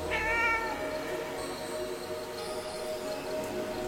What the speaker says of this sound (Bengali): হঠাৎ একটা বেড়ালের আওয়াজ শুনতে পেলাম